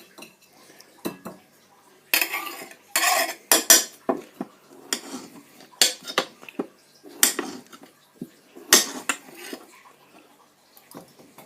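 Sharp knife cutting stew ingredients on a board, a run of crisp chops and taps in uneven bursts, close and fairly loud with short pauses between strokes and some utensil clinks.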